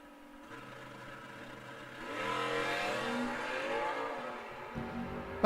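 A Chevrolet Camaro launches at an old-time drag racing event, its engine revving and building into a distant rising roar that swells and holds, heard faintly from afar.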